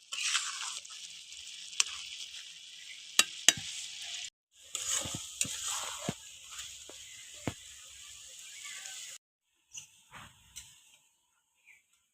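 Carrot halwa sizzling and bubbling in a pan as the water cooks off after sugar is added, with a steady frying hiss broken by sharp scrapes and taps of a spoon stirring, then fading to quiet near the end.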